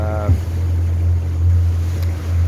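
A strong northeasterly wind at sea buffets the microphone on a boat motoring along off Dar es Salaam, with a low steady engine rumble and rushing wind noise throughout, loud and close.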